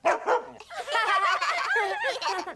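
A cartoon dog in a children's animated show gives a string of whiny, yelping barks and vocal howls, close and continuous, rising and falling in pitch.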